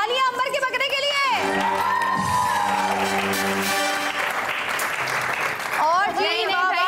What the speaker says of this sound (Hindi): तालियां अंबर के बकरे के लिए।